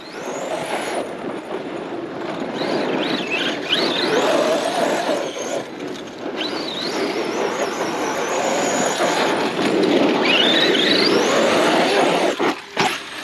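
A Traxxas Outcast 8S EXB RC truck with upgraded shocks tears around a rocky dirt track, its electric motor whining and rising in pitch, tires scrabbling over gravel, then a hard crash followed by a sudden thump near the end.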